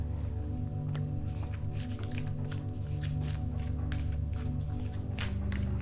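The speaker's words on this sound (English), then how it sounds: "Okay, then let's shuffle." Guidance cards being shuffled by hand, a rapid series of crisp riffling bursts repeating in an irregular rhythm, close and clear over a steady low background hum.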